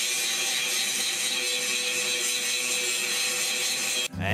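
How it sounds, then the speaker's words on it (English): A small 4-inch angle grinder grinding welds off a grapple bucket, giving a steady, loud, continuous abrasive whine that runs nearly unbroken before cutting off abruptly near the end. "I need a big 6-inch grinder instead of this little 4-inch grinder."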